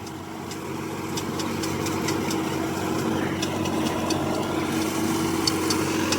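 A Sonalika 47 RX tractor runs near 1600 rpm driving a Shaktiman 72-blade rotavator with loose blades, giving a steady close engine drone with faint, repeated light ticking above it.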